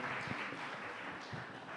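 A church congregation claps together during worship, a dense, steady wash of applause that holds at an even level throughout.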